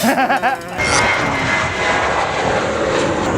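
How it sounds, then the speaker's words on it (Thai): A fixed-wing airplane taking off nearby, its engine roar swelling into a loud, steady, broadband rush that masks a brief stretch of talk at the start. "เครื่องบินขึ้นเยอะว่ะขึ้นที"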